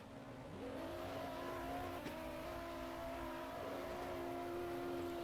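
A low-horsepower car in the Roblox game Prodigy Drift revs steadily through a 360 drift entry, its engine drone holding a continuous, loud pitched tone that shifts slightly as it accelerates, with tire and road noise underneath.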